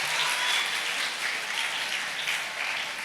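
Audience at an Islamic study gathering applauds, a dense, steady patter of many hands clapping for a few seconds, fairly close and without speech over it.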